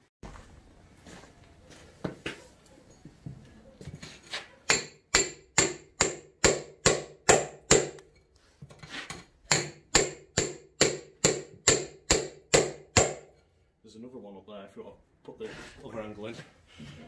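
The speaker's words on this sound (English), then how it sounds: "We might have to use a chisel just to get into there." A hammer strikes a chisel against a Ferguson TE20 tractor rim in bursts of sharp, evenly spaced metallic blows, loud and close, with a short stretch of talk near the end.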